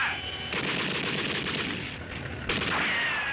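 Gunfire effect from a 1962 Dr. No radio teaser: bursts of rapid shots and booms, loud and close, with a sharp blast near the end and a whistling tone after it.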